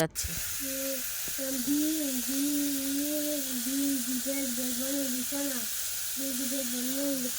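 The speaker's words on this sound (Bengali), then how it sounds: "তারপরে দেখো সবজিগুলো সব ঢেলে দিলাম লবণ হলুদ লঙ্কা গুঁড়ো দিয়ে তরকারিটাকে কষা করতে লাগলাম" Vegetables with salt, turmeric and chilli powder fry in hot oil for a curry, giving a constant close sizzling hiss under a wavering humming tone, with faint voices in the background.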